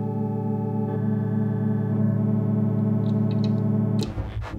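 Sustained wavetable tones from a disting EX synthesizer module, a dense harmonic drone holding steady with brief shifts, then breaking into rapidly changing, clashing timbres near the end; loud and alone.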